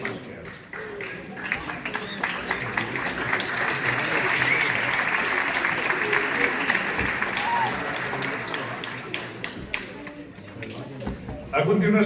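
Applause from the audience at a city gold medal presentation ceremony for the UEF, a continuous round of clapping that swells and then eases, with a voice briefly heard over it.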